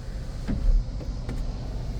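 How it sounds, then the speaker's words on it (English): A 2004 Jeep Liberty's sunroof motor runs with a steady low electric hum inside the cabin, continuous and fairly loud, with a couple of faint clicks and no talking. "We also have a sunroof. Sunroof, it works."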